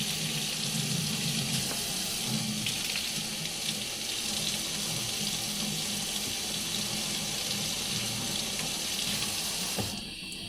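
Hot water pours steadily into a La Pavoni espresso machine, a continuous close splashing rush that stops abruptly near the end.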